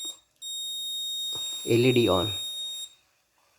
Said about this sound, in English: Methane alarm on.